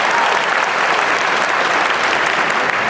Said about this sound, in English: Give yourselves applause.